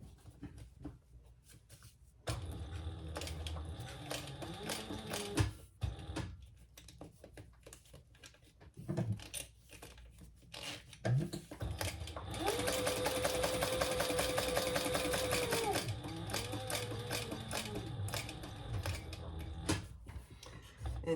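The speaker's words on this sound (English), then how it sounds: "now I'm going to stitch around and I'll pull those threads to the back" A sewing machine stitches around a crossbody bag, its motor running in steady bursts with a sustained whirring run in the middle and short pauses between passes, close and alone with no talk.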